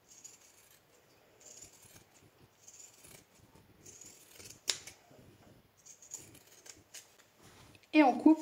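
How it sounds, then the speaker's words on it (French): Pinking shears snip around the sewn seams of a fabric piece, a series of short crisp cuts in irregular rhythm, close up and faint, ending in a louder rustle of cloth. "on vient donc couper tout autour, évidemment sans couper les coutures"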